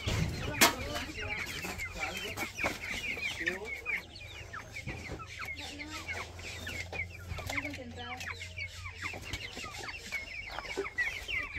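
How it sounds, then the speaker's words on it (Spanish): Baby chicks for sale at a market stall, a busy flock peeping and clucking continuously, fairly close, with rooster-like calls mixed in and occasional background voices and clatter. "aquí están los pollitos"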